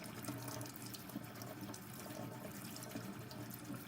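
Running water splashes steadily over a K&N air filter as the inside is rinsed clean of dirt and oil, a soft, continuous faucet hiss and patter heard close by.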